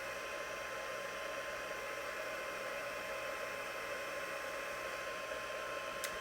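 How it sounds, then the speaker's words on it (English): Handheld craft heat tool blowing hot air to dry ink on vellum for a card; a steady, close, hissing whirr of fan and airflow, constant in level and uninterrupted throughout. "I'm gonna dry it with my heat tool"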